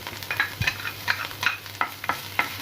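Chopped garlic sautéing in olive oil while being stirred, with soft frying sizzle under a series of light, regular spatula scrapes and taps close by; no one talks.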